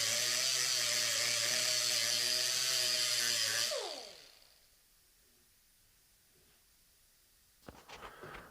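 An angle grinder works custom fabricated metal parts for a Homelite chainsaw, a loud steady whir with broad hiss that runs for several seconds, then winds down and stops, followed by quiet and a few faint clicks.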